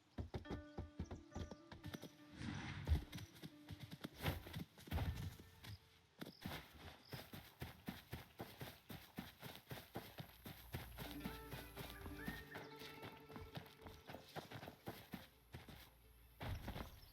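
Horses in the video game Where Winds Meet, with dense clip-clop hoofbeats and movement sounds mixed with game music and ambience, continuous and fairly busy throughout.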